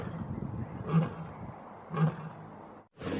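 Two low, growling roars from a toy tiger head, each about a second apart and fairly close, followed by a brief gap and a click.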